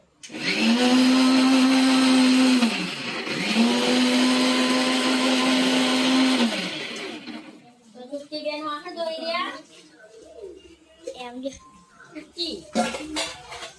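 A kitchen mixer grinder crushes tomatoes in two loud whirring bursts of several seconds each, then stops, followed by someone speaking and dishes clattering nearby.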